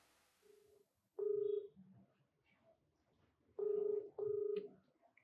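Telephone dialing tones while a call is placed, a few short, clear electronic beeps in quick pairs over a quiet room.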